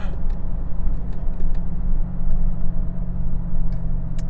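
Chevrolet TrailBlazer SS SUV engine with a steady deep rumble, continuous and fairly loud inside the cabin while driving, with no talk over it.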